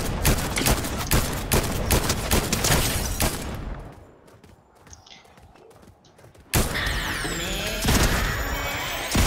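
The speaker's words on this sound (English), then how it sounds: "I hear him shooting right one now" Video game gunfire crackles in dense, rapid bursts, thins to scattered distant shots for a couple of seconds, then returns loud and sustained.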